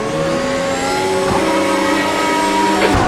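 Race car engines roar at the standing start in the sim racing game Automobilista 2, a loud sustained multi-engine drone with pitch climbing and shifting as the cars accelerate off the line, no talking.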